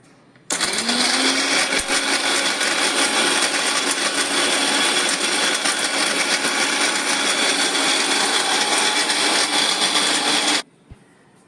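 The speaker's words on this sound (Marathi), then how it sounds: "आता आपण हे वाटून घेऊया मिक्सरला" Mixer grinder whirring loudly and steadily as it grinds roasted dry coconut with cumin, starting abruptly and running for about ten seconds before cutting off.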